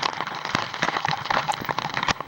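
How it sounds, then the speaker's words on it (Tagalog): Heavy, steady rain pours down during Typhoon Kristine, a dense close hiss with scattered sharper drop impacts throughout and no voices. "ayun ang tuloy-tuloy ang lakas ng ulan dyan"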